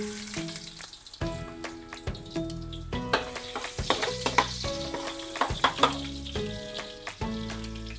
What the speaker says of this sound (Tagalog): Gisa muna natin itong luya.